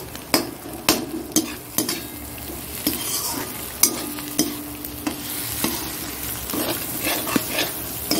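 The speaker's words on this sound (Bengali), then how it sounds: "দেখো ডিমটা একদম ঝুড়ো ঝুড়ো করে দিয়েছি, একদম মিশে যাবে" Scrambled egg being stirred and scraped in a sizzling frying pan while cooking egg chowmein, with steady frying hiss under repeated sharp spatula strokes against the pan, close and clear, no talking.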